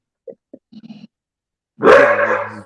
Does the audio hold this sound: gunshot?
no